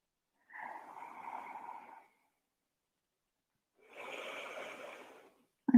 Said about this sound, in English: feel the breath in and out through your nose